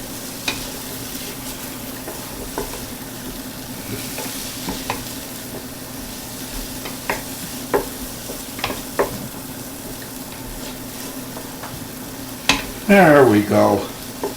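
Garlic sizzles steadily in a pan while a utensil stirs it in repeated scraping strokes, followed by a louder burst of clattering near the end and a brief spoken remark.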